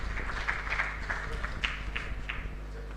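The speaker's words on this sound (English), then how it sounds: "Welcome him with a round of applause" Symposium audience in a large hall applauding as a presenter walks forward, a steady, moderately distant patter of many hands with sporadic louder claps over a low room hum.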